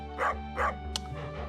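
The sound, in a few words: dog barking in video game Stardew Valley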